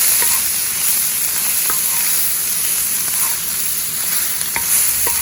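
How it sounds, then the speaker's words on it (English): Shrimp sauté in a wok with a steady, close, loud sizzle, broken by a few short clicks and scrapes of stirring; no one speaks. "And in go our shrimp. We're going to saute these for a few minutes."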